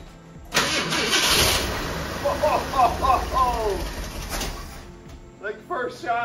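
A 1966 Ford Thunderbird with an old carburetor and stale gas cranks and fires up after years of sitting, the engine catching and running unevenly up close, with a voice briefly heard near the end.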